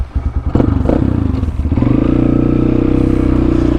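A pit bike dirt bike engine with a loud exhaust starts with a few rough thumps and clatter, then settles into a steady, raspy, pulsing idle, very close and loud.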